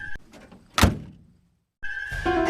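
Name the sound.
car door being closed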